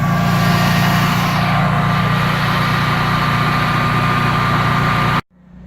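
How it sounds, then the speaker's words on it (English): A Generac 16kW Guardian standby generator runs with a steady, loud engine drone and a constant low hum, then cuts off abruptly near the end. "You can hear the generator going there."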